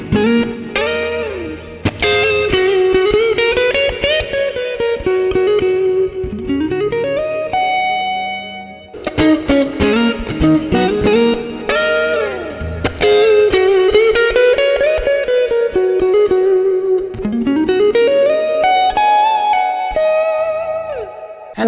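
Clean electric guitar played through a studio-style amp model with the chorus switched off, with melodic lines and chords ringing with light reverb, steady and close with no talking.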